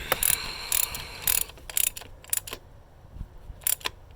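Ratcheting while tightening the PCV valve fitting on a 2014 Hyundai Elantra GT engine, a close series of quick sharp clicks in short bursts, loud and with no talk.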